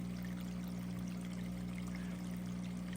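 A small wall fountain's pump runs with the water trickling and pouring steadily, a constant low hum under a soft continuous splash, quiet and close with no talking.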